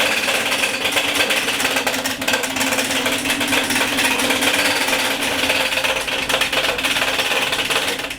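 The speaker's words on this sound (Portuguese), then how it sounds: "Uma impressora em braille" A braille printer runs steadily, a dense mechanical clatter of rapid embossing strikes over a continuous motor hum, close and loud with no speech.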